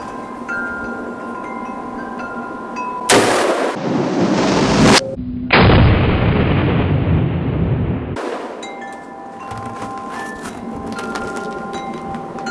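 Close gunshots from an AR-15 pistol/SBR being troubleshot for failure to eject and feed, a few sharp loud reports with pauses between them and a longer blast-like burst in the middle, no talking.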